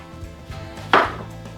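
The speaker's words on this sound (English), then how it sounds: "I'm just cutting around and making like relief cuts so that this can be folded onto itself like that" Scissors or a blade snipping excess headliner fabric on a Toyota Tacoma, one close, crisp cut standing out after a few faint soft rustles.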